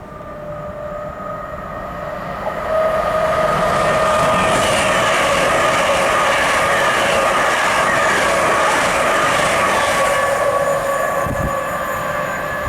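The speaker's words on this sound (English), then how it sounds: "And off goes 81229 with the 1341 LNER service to Leeds." LNER train 81229 pulling out of Grantham station on the East Coast Main Line, a loud steady roar of engine and rolling wheels building after a few seconds and holding, with faint squeals near the end.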